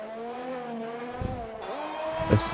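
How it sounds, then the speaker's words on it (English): An AlphaTauri Formula 1 car engine in a racing game, set at the Australian Grand Prix. It holds a steady high whine, then shifts pitch on a gear change with a brief tire squeal near the end. "I love the sound of the AlphaTauri"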